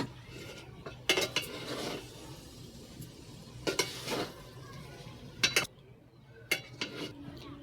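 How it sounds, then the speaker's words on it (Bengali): Chicken being stirred into chow mein in a pan with chow mein sauce, Szechuan sauce and chillies: intermittent scraping and clinking of a utensil against metal in short bursts over a soft background sizzle. "এবার আমি চিকেনটা মিশিয়ে দেবো"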